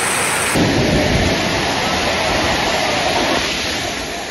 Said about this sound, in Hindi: सुंधा माता पहाड़ी क्षेत्र में बारिश मूसलाधार।